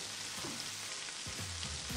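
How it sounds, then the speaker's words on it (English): Steak frying in a pan in the Toca Life game gives a steady, close sizzle with a few soft scrapes, running on its own for a couple of seconds. "I'm gonna cook like steak or something because I'm hungry in the game."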